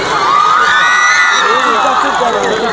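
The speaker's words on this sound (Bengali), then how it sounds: "একবার জোরে জোরে একবার চিৎকারের হাততালিটা শোনো" A crowd at a Jagadhatri puja stage cheers loudly, with shouts and whoops rising together in a dense burst and clapping mixed into the roar.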